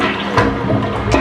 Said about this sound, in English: All right, one more flush.